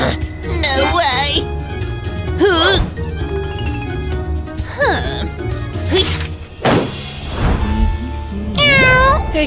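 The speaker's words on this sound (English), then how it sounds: "Hey, kitty." Several loud, drawn-out cat meows, close and repeated at irregular intervals, mixed with thumps and bursts of human voices.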